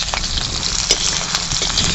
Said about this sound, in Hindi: अब हम जो हमने पटर लिया हुआ है परवल को इसमें डालकर थोड़ा भुनेंगे